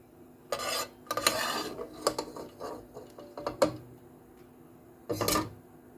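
Fried nuts are scooped out of a cooking pan with metal utensils, giving several close clinks and scrapes against the pan in irregular bursts separated by short quiet gaps.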